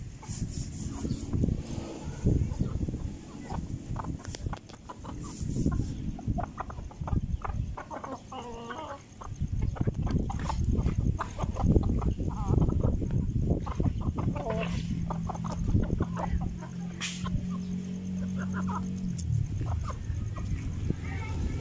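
Pet chickens cluck and chatter close by in a backyard, with scattered rooster-like calls and rustling, while a person talks intermittently over the birds.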